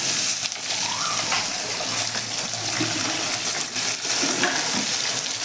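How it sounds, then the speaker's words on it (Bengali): Potato pieces tumble into hot oil already sizzling with bay leaf and cumin, giving a steady close frying hiss with faint stirring clatter and no talk. "এখন আলুগুলো ছেড়ে দেব।"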